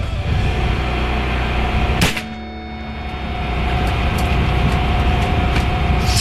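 AEA Zeus .72 caliber PCP air rifle fired once outdoors, a single sharp loud crack followed by a brief dip and steady background noise.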